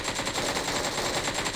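Rapid automatic gunfire from PUBG Mobile during an endgame fight, a dense steady stream of shots lasting the whole moment at even loudness, with no talk over it.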